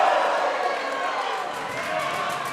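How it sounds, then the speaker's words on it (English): Wrestling crowd cheering during a professional wrestling match, heard as a loud, dense roar of many voices that holds steady for a couple of seconds. "This crowd is electric."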